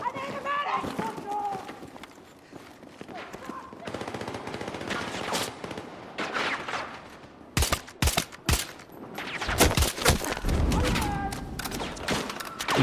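Bursts of video game shooter gunfire, including rapid machine-gun fire, crackle in and out over a steady background, growing denser and heavier near the end, with a voice talking underneath.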